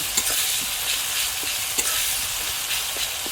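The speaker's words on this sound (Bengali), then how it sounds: "এই আদা রসুন পেস্ট দিলে আর নুন দিলে অল্প করে, এতে তো মানে প্রচণ্ড ছিটকায়" Ginger garlic paste and salt spattering in hot oil, making a steady loud crackling sizzle with scattered sharper pops, close by and heard alone with no talking.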